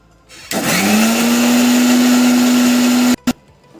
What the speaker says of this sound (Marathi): हे आता आपण मिक्सरला बारीक करून घ्यायचं